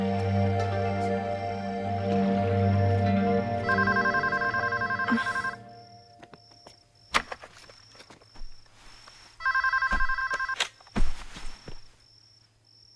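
A telephone rings indoors in a quiet room, repeated electronic trill bursts in two groups separated by brief pauses, with faint footsteps and room noise between rings.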